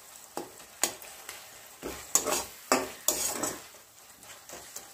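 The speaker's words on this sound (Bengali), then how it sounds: "এটাকে আমি ভালো করে খুন্তি দিয়ে একটু করে দেবো" Spatula scraping and stirring potato curry masala with softened tomato in a pan, a series of distinct scrapes and clanks at an uneven rhythm over a low sizzle, close and fairly loud, with no talking.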